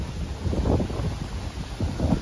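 Strong wind gusting across an open farm, a steady low roar with surging buffets and rustling, no voices.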